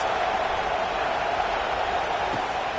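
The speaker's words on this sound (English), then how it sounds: "Listen to this crowd just shaking the girders of this place trying to help their defense." Stadium crowd in an NCAA 25 college football video game, a dense steady roar sustained at full level throughout with no talk over it.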